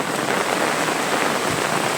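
Heavy monsoon rain pours down steadily in the Konkan countryside, a dense, loud, even hiss with no break and no voices.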